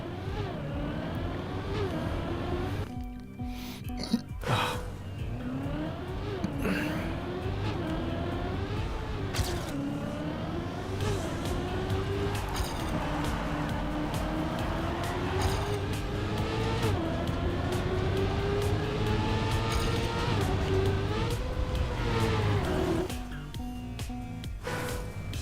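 A racing car engine in the Trackmania video game holds a loud, continuous whine that climbs and falls in pitch through turns and gear changes, with occasional brief drops in throttle, close and dominant throughout.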